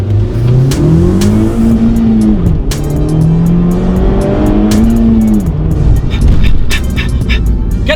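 Honda Civic Type R FK2 engine revving hard, its pitch climbing and falling in repeated strong sweeps, loud and close throughout with sharp crackles over the top and no talk.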